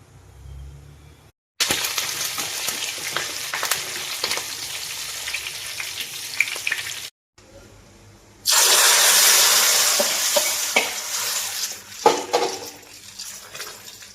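Cumin, curry leaves and shallots hit hot oil for a tempering, sizzling and crackling in loud bursts, with brief breaks and a sharp spluttering surge near the end.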